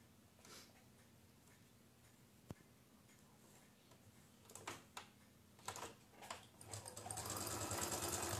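Small ticking clicks from a sewing machine working on a patchwork sampler block give way to short stitching bursts, then a steadier, louder run near the end, all fairly quiet.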